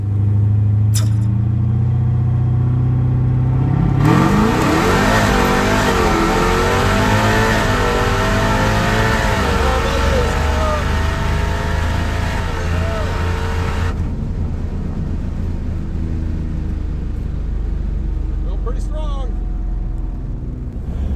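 A loud Dodge Challenger Shaker Scat Pack drag car engine revs and climbs in pitch for about ten seconds, then drops back to a steady idle rumble, with faint voices at the end.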